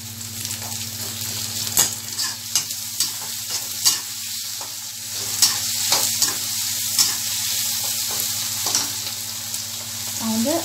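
A small tomato sautéing in a pan for rava kichadi, with a steady sizzle and repeated scraping clicks of stirring throughout, loud and close, no voices.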